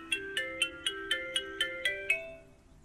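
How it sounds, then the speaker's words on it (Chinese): A phone video call rings out in a quick repeating melodic chime, nine evenly spaced tones at moderate volume before stopping. "我先给萨瓦迪卡那打电话了啊。"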